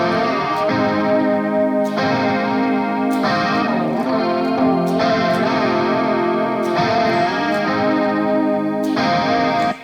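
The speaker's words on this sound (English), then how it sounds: "And when you add the chorus to it, that's what really makes it sound cool." Electric guitar playing chords through a chorus effect set to maximum depth, strummed chords ringing with a shimmering, wavering wash, loud and close, struck in a steady pattern with no talking.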